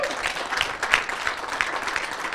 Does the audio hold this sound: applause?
yes